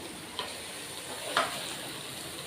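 Okra frying in hot oil, a steady soft sizzle with two brief sharper crackles or stirs.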